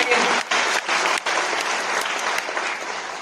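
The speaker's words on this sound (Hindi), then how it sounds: "एक बार जोरदार तालियां" Loud, dense applause from an audience at a business event, continuous clapping that dips briefly a few times and keeps going.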